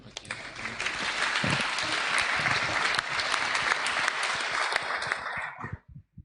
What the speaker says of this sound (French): Tous vos applaudissements.